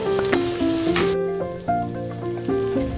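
Katla fish pieces fry with spices in a pan over a low gas flame, a steady close sizzle that fades after the first second under a backing of soft melodic music.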